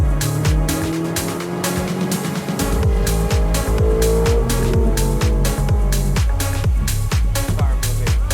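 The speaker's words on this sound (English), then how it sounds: "Car moving." A car at the Manila Auto Salon 2023 rolls along with a loud, steady engine drone, heavy pulsing rumble and rhythmic thumps throughout, close and continuous.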